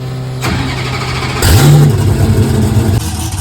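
A Hennessy Venom F5 supercar engine starts and revs loudly close by, a sharp rising roar followed by a rumbling idle.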